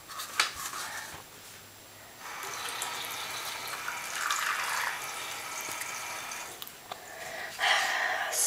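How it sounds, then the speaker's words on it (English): Water runs from a tap into a cup, a steady hissing stream that starts, pauses, and resumes, with small clinks along the way. "I'm gonna fill up a cup with water."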